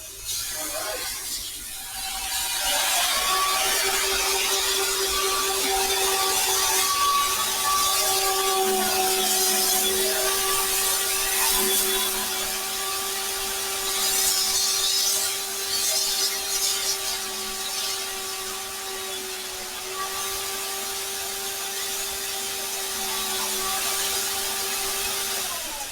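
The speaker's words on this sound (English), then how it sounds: "cut the pins on the bandsaw" A bandsaw cuts the pins of a wooden joinery joint, giving a steady, loud motor whine with sustained tonal lines that shift pitch slightly as the blade loads, running continuously for about twenty-five seconds with no talk.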